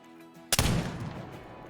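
A .50 caliber muzzleloader fired at a shooting range in the hunting game Call of the Wild: one sudden, loud boom that rolls off into a long echoing tail.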